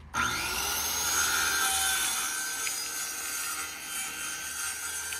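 A saw rasps steadily through material, a continuous close scraping with a sharp start and slight wavering toward the end.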